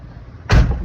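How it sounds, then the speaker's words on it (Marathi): A car door opens with a single loud, close thump and clunk that breaks a quiet stretch, then fades into a short rattling tail. "अब हम गाड़ी का दरवाज़ा ओपन करते हैं"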